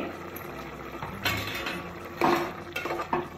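A spoon stirs salt into boiling mutton kol, scraping and clinking against a metal pot in a few irregular bursts, close by over a low simmer.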